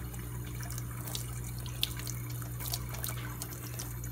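Water runs steadily from a sink tap, a close, continuous rush with small splashes and drips scattered through it, and nobody speaks.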